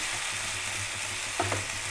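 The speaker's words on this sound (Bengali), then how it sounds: "এই যে টমেটোর মশলাটা ভালো করে নাড়ছি।" Spatula stirring a tomato masala with ginger, garlic and onion in a pan, a steady soft sizzle with a couple of brief scraping strokes near the end, close and moderately quiet.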